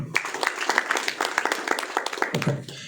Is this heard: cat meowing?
no